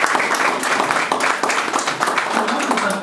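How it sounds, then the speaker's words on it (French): An audience at an orientation fair conference applauds a guest, a dense steady wash of clapping from many hands filling the short span, fairly loud and continuous. "Est-ce que vous pouvez vous relever, monsieur, pour qu'on puisse vous applaudir?"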